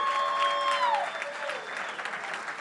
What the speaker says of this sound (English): Round of applause for Order Nerd, our winners of the night.